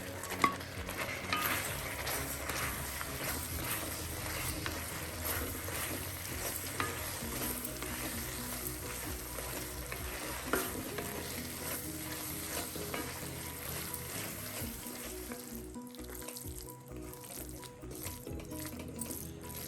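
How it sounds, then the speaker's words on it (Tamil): Halved fried mushrooms being stirred into bubbling gravy for a roadside-style kaalaan dish, a continuous close sizzle and wet bubbling with stirring scrapes, no talk, thinning out toward the end. "இதில் நம்ம போட்டு மிக்ஸ் பண்ணிடலாம்."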